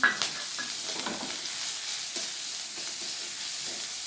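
Green and red chillies with garlic paste fry in a pan for a fish curry, giving a steady moderate sizzle with faint stirring clicks, close and continuous with no voices.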